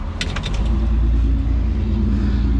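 A 1968 Mercury Cougar engine with a stuck-open throttle, a loud steady low rumble and drone, near and continuous, with a few brief rattling clicks at the start.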